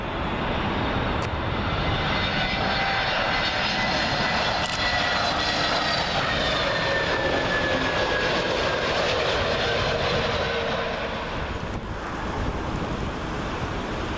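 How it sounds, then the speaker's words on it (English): A TAP Airbus A320neo from Lisbon lands on runway 27L at Heathrow in gusty conditions, its loud jet roar and whine close overhead and sustained, with buffeting wind rushing beneath. "TAP A320neo arriving from Lisbon."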